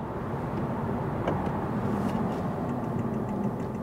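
A Honda Civic accelerates hard and shifts gears, a steady engine drone with a brief break in pitch partway through, heard from inside the car at moderate loudness.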